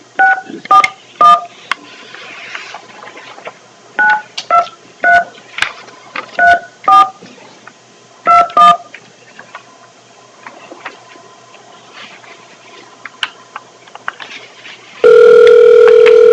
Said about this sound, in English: Just go ahead and push 9 to be on the speakerphone.